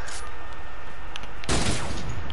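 A loud sniper rifle shot cracks in a Fortnite match, a sharp broadband blast followed by a short rolling tail, after quieter background game noise.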